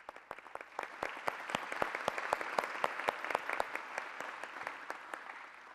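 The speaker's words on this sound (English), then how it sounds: "So I want to give you a round of applause and say thank you." An audience at a county State of the County address breaks into applause, sharp individual claps building to a full round and then thinning slightly, close and clear.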